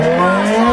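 Honda Fireblade SP sport motorcycle exhaust holding a loud, steady, high-pitched drone at revs for a brief moment, close and with no voices.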